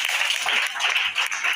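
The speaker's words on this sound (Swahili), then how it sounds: "Tunaweza mpigia makofi." Audience applause fills the room in a steady, dense wash of clapping that dips briefly and swells again, with no voices over it.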